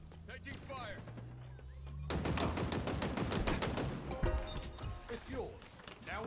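Halo Infinite gunfire in a ranked Stronghold match: rapid automatic bursts rattle for several seconds, with metallic clinks and thuds, under game voices and effects.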